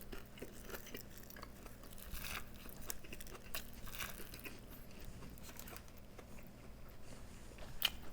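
Quiet crunchy bites and chewing into an Italian sandwich topped with plain Lay's potato crisps, soft crackles scattered over a low room hum with no talk.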